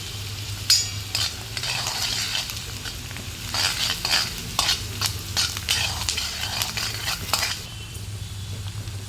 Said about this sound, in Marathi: आता हा कांदा आपण छान गुलाबी होईपर्यंत परतून घेऊयात